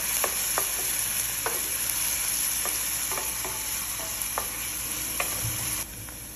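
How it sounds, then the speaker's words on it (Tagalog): Onions sautéing in a pan give a constant bright sizzle, with a spoon scraping and stirring at irregular intervals, close and steady throughout with nobody speaking. "Una, magigisa ako ng sibuyas."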